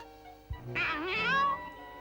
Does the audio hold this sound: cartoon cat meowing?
yes